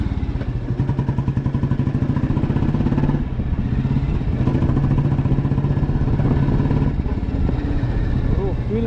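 Royal Enfield Lightning 535 motorcycle engine running with a steady, evenly pulsing thump, a close and loud low beat that holds for the whole stretch with slight dips in intensity.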